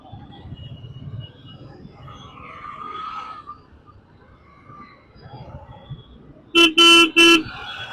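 Bangalore city traffic rumbles low under people talking, then a nearby car horn blares three loud blasts in quick succession near the end.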